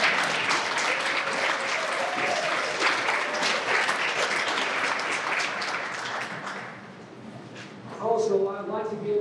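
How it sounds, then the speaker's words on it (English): A crowd at a school awards night gives a big round of applause, with sustained dense clapping that tapers off near the end as a voice starts speaking over the last moments. "Now let's give them all a big round of applause."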